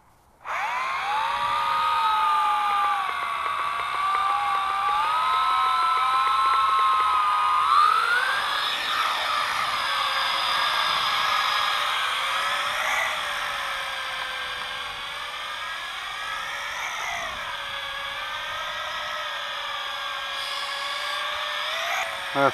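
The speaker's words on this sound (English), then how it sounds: "It seems to fly much better without the landing gear and the camera and the safety guards" A small JJRC H26 quadcopter drone with freshly replaced motors flies without landing gear, camera or guards, giving a steady loud high-pitched whine that rises and dips as the throttle changes and runs continuously without talk.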